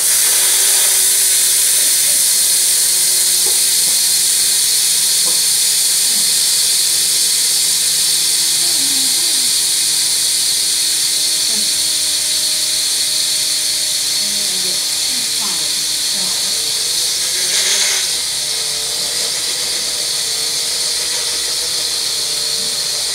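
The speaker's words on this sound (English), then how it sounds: "now we're going to grind it up in the bullet" A Magic Bullet blender grinds chia seeds with a loud, steady high-pitched whir that runs unbroken, with a faint voice and light clatter underneath.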